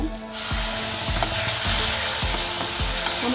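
Tomatoes hit a pan of browned onion, garlic and ginger, setting off a loud, dense sizzle with repeated scraping stirs every half second or so.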